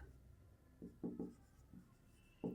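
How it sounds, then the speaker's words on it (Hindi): Pen writing on paper while a math solution is worked out, producing a few short scratchy strokes in uneven bursts, close and soft over a quiet background. "तो हम लिखेंगे गिवन हाइट"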